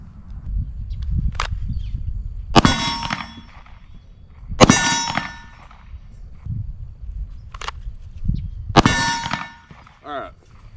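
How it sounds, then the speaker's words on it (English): Shots from a Shadow Systems XR920 pistol ring out at an outdoor range, four loud sharp cracks spaced a couple of seconds apart with bright metallic ringing, and light rustling in between. "I'm going to get to shooting."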